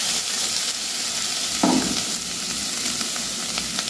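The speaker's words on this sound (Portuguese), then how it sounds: "Agora eu vou colocar um feijão aqui." Beans are added to farofa frying in a pan, producing a continuous close sizzle with a brief stirring scrape partway through and no voices.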